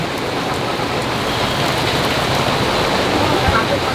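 Steady, dense rain hissing and pattering on surfaces, constant and close throughout with no letup.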